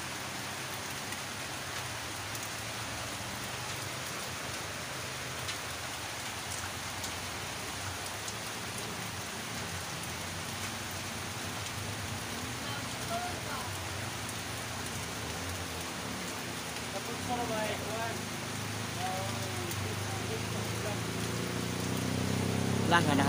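Heavy rain pours steadily during a flood, a dense continuous hiss on surfaces that swells slightly louder toward the end, with faint voices mixed in under the downpour.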